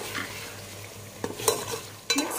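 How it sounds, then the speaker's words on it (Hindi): Turmeric and other spices are stirred into a cooking pot for chicken korma, with a soft sizzle throughout and a few scraping strokes of a spoon against the metal. "मसालों को इसमें डाल देंगे, अच्छे से मिक्स कर देंगे मसालों को"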